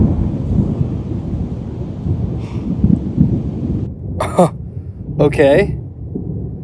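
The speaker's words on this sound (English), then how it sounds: "there was lightning and all sorts of thunder" Thunder rolls through a woodland thunderstorm with rain, a continuous low rumble under the scene. A person speaks briefly, and two sharp bursts break in toward the end.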